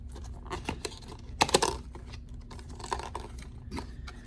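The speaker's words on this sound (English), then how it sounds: "Let's peel off the shrink wrap here" Plastic shrink wrap peeled from a charging station dock box, a series of close crinkling rips with a louder burst of tearing crackle midway, no talking.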